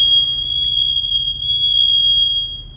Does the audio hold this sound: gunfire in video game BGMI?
no